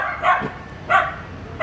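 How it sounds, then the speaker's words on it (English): A dog barks three times, nearby and fairly loud, with quiet gaps between the barks. "Sorry for the barking dog."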